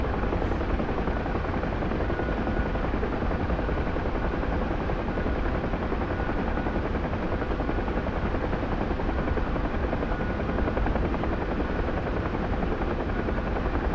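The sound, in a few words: Huey helicopter flying, from video game DCS World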